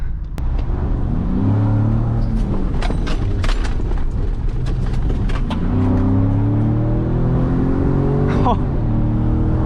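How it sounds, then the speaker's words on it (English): Ford Raptor trucks, one upgraded and one stock, accelerate hard up a highway on-ramp. The engine drone is loud and close and rises through the gears, with a mid-clip drop and a second climb. "We're hitting the on-ramp with Hudson."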